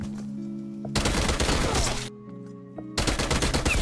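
Submachine gun fire in Call of Duty: Black Ops Cold War free-for-all: two loud, close, rapid bursts, the first about a second long, the second starting after a short quiet gap.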